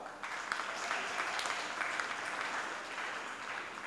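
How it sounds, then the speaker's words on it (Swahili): A church congregation claps for the WAWATA group during a Holy Mass, a steady ripple of applause from many hands lasting a few seconds, no talk over it. "Tuwapigie makofi tena WAWATA"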